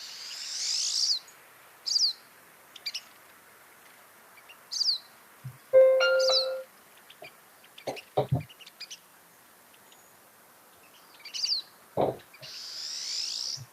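Pine siskin song, a woodland finch, comes as scattered high chirps and twitters with a rising buzzy zipper-like trill in the middle, interspersed with lower calls, moderately close and without voices.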